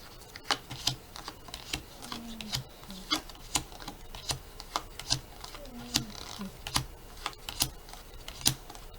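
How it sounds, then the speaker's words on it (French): A deck of tarot cards is cut and handled, giving rapid, close papery clicks and flicks in an uneven rhythm, moderately loud, with no one talking over them. "je coupe 13 cartes"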